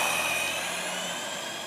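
A GP Toys S912 RC car's electric motor revs up in a loud, high whine that stays steady and fades slightly over the short burst.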